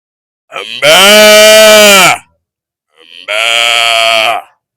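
A man imitates a cow with his voice, two long drawn-out lowing calls, loud and close, separated by a short pause.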